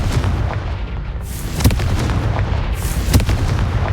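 Two heavy explosion blasts from the Confringo fire spell in the Hogwarts Legacy video game, each a sharp, booming burst a second and a half apart over a dense, rumbling battle background.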